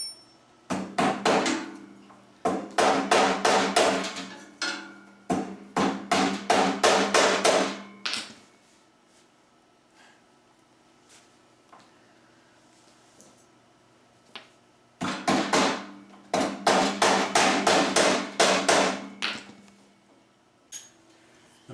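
A hammer drives staples to fasten electrical cords during a reducer installation: quick, sharp taps in three dense bursts, loud and close, separated by stretches of near silence.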